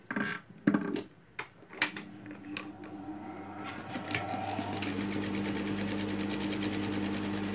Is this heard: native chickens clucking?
no